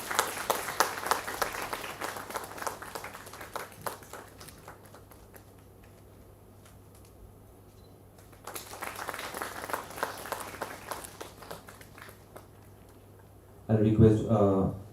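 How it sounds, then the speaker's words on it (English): Audience applause at a university student induction programme, a large hall crowd clapping in a long wave that fades, then a second swell, ending with a loud voice over a microphone. "Can we have a round of applause"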